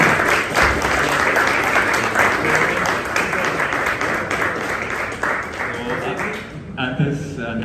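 Loud, sustained applause from a crowd at a novel launch, steady and dense throughout, tapering slightly near the end as a few voices emerge.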